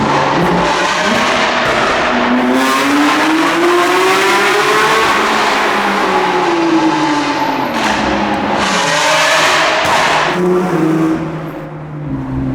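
A Porsche 992 GT3 RS engine revs hard to 9,000 RPM inside a tunnel, loud rising wails climbing through repeated pulls with echoing exhaust roar, then easing off near the end.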